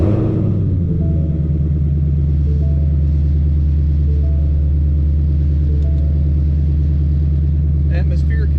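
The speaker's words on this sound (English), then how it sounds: "Start the car." A 2020 Shelby GT500 on a dyno in a shop cranks and fires, then settles into a loud, deep, steady idle rumble close by, with a faint clatter near the end.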